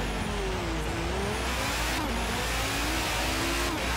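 An Audi Quattro pulls away hard from a standing start in Forza Horizon 3, its engine note rising steadily and droning close and loud throughout with no talking.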